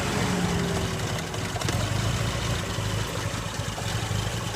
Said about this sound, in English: This is the 4AC carb engine, okay?